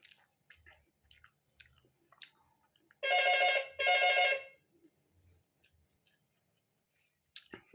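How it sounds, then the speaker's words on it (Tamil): A telephone rings in a home kitchen in two loud electronic trills, back to back in the middle of a quiet stretch. Faint clicks and small handling noises come before and after. "இப்படி தான் ஃபோன் வரும், எந்திரிச்சு போயிட்டு அட்டன் பண்ணணும்"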